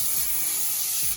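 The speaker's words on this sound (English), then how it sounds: "I'm just gonna go ahead and spray" Non-stick cooking spray hisses onto a foil-lined baking sheet in one steady, close burst lasting about a second before cutting off, with no talk.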